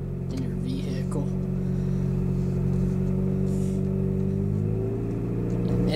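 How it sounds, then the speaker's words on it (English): A car's engine drones low and steady while driving across a covered bridge, a close continuous rumble from inside the vehicle, with someone talking softly over it. "Such a neat experience to drive across a covered bridge in your vehicle."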